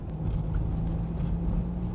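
A Renault Captur's engine hums steadily while the car drives, giving a continuous low rumble with a faint tonal drone and no talk.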